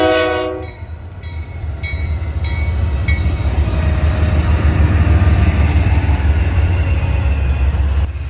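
A freight train led by a BNSF Dash 9 and an ES44DC locomotive sounds several horn blasts, then rolls past with a loud, steady, deep rumble of engines and wagons.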